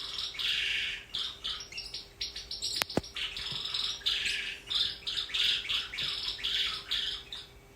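A female canary sings in a continuous run of bright chirps, trills and short tweets, close and moderately loud, with a brief sharp click partway through and no talking.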